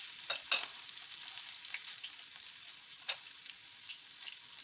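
Mustard seeds, dried red chillies and small shallots fry in hot oil with a steady hissing sizzle and a few sharp crackling pops, alone and fairly close.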